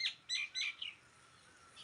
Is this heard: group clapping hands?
no